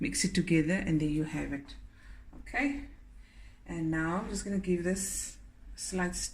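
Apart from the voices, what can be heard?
No everyday noises stand out.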